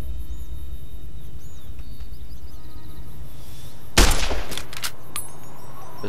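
Gunfire aimed at sarsaparilla bottles on a fence in Fallout: New Vegas, heard as one loud, close shot with a sharp crack and short tail, followed by a few fainter impacts over a quiet game ambience.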